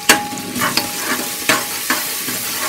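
Crushed whole small shallots frying in a pan with ginger and garlic for little millet tomato rice, a steady close sizzle broken by a few sharp stirring scrapes.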